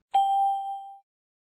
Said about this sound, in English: A hammer is connected to the armature, which moves and strikes the bell gong.